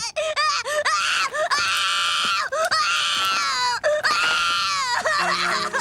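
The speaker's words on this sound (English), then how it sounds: "What's all that crying about then? I could hear you a mile away." A cartoon child cries and wails loudly and continuously, breaking into repeated rising, sobbing bursts with brief pauses, close and dominant, ending in a few short tones.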